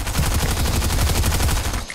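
Rapid automatic gunfire in the Fortnite video game, a loud, close, evenly spaced burst of about twenty shots that stops abruptly just before the end.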